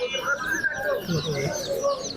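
High, thin peeping of many layer chicken chicks at a poultry market chirps continuously nearby, with a voice speaking underneath the chatter.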